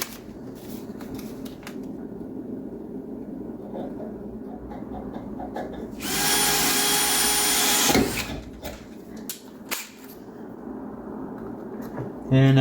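A power drill bores a hole out to 9/16 inch during a slant six to V8 swap on a 1973 Dodge Dart, a loud steady burst of about two seconds standing out from quieter shop noise and talk.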